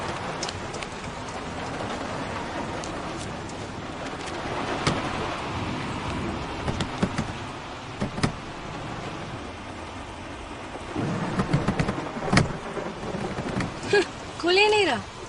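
Steady heavy rain with rumbles of thunder on a street beside a stalled car, a continuous wash of downpour with a few sharp cracks, while people talk over it.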